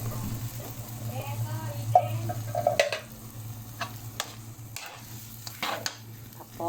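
A mix of mussels and other seafood with whole kernel corn is stirred in a pan. A person talks over low cooking noise at first, then scattered spoon knocks and scrapes stand out more clearly.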